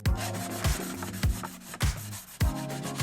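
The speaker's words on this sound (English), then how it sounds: "We're going to sand all these edges and get rid of all of our splinters with 120" Wood edges being sanded by hand with 120-grit sanding blocks: steady, close rasping strokes in a regular back-and-forth rhythm, with sharper scrapes about every 0.6 seconds and no talking.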